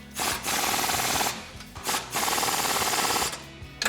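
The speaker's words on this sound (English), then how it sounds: "we're gonna tighten this down with our 24 and our 21 wrench" A wrench works the top and bottom strut nuts on a 1994-2004 Mustang. Close-up bursts of rapid metallic ratcheting are separated by short pauses, with no talking.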